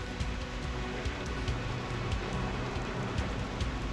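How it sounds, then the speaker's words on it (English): Light rain falls in the Reverse 1999 video game, a soft, steady hiss with faint patter that stays quiet and even throughout, with no talking. "It's raining."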